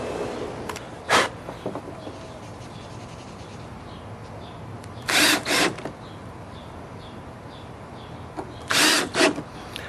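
A power drill drives screws into door hinges in three short, loud whirring bursts separated by long stretches of quiet handling noise.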